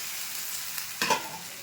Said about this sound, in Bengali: এবারে আমি আলু পটলটা দিয়ে দিচ্ছি।